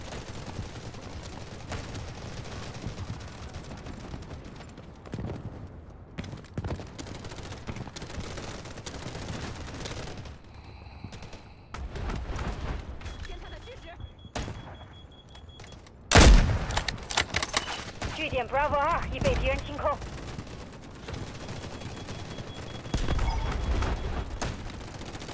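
Gunfire fills a match in the video game Delta Force Mobile, with rapid bursts and single shots cracking repeatedly over a dense battlefield din, one especially loud close blast midway, and busy firing afterward.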